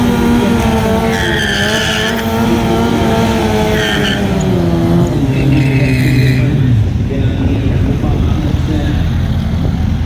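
Streetbikes launching side by side in a dial-your-own drag race at a streetbike drag school championship, engines revving hard with rising, shifting tones and loud continuous roar close by, with a commentator talking over it.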